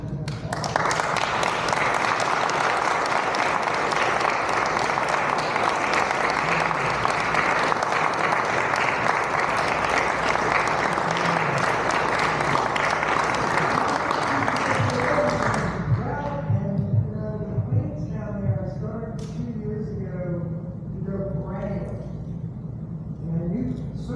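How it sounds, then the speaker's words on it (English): Audience claps in a dense, steady round of applause for about fifteen seconds, then the clapping thins out as voices take over. "So I want you to all give a round of applause."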